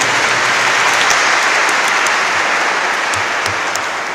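A congregation claps at a Chrism Mass in the Archdiocese of Lahore, loud and sustained applause filling the space, a thick continuous patter of many hands with a few sharper claps standing out.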